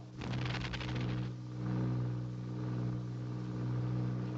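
A steady, droning piston engine of a WWII RAF bomber, running on the port side with the starboard engine dead, holds a low hum throughout, with a rougher, louder burst near the start and a slow swell in level.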